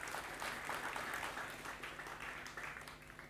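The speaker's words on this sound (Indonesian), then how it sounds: "Tepuk tangan." Audience applause at a spiritual talk, a soft, steady spread of clapping from a seated crowd, fairly quiet and distant, tapering slightly toward the end.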